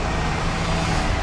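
A truck with a newly finished cargo body rumbles past close by, a dense, steady roar of engine and tyre noise with no pauses and no talk.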